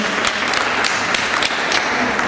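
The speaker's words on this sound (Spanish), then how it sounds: "un aplauso para todos, por favor, que han participado" An audience at an international museum gathering claps for participants, a dense, fairly loud applause with a few sharper claps standing out, sustained throughout without talk.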